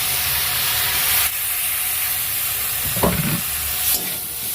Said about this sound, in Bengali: ভালো করে মশলাটা কষাই